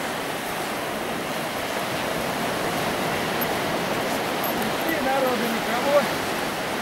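Sea waves wash onto a beach in Salou on Spain's Costa Dorada, a continuous broadband rushing surf noise that stays fairly loud and even throughout, with a faint swell near the end and no talk.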